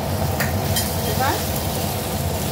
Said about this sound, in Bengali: মানকচু বাটাটা অল্প নেড়ে নিই